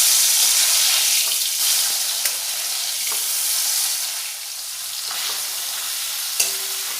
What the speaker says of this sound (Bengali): দিয়ে মাছগুলো লাল লাল করে ভেজে নেব।